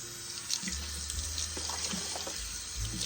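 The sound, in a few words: water running from tap, rinsing dishes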